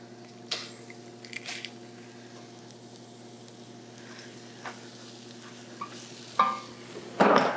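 Ginger root and onions sizzle quietly in a pan for Korean beef, a soft continuous frying hiss with a few utensil scrapes and taps, louder stirring clatter near the end, and no talking.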